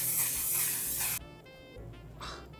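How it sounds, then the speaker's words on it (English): Mattifying setting spray misted onto a face in one steady, close hiss lasting about a second, followed by quieter rustling. "It's a mattifying setting spray"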